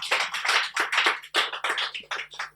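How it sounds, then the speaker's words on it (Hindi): Live audience at a comedy club bursts into applause, a dense run of hand claps swelling and pulsing in waves for a couple of seconds, close and loud with no talking. "पहले तो ताली मारो यार बकवास कॉमेडी क्लब के लिए यार"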